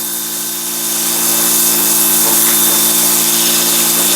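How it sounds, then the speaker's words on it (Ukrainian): A Kärcher pressure washer used to clean a large silver carp runs with a steady, loud motor drone under a broad hissing spray that swells slightly after the first second, nearby and without talk. "Так що отак працює кьорхер."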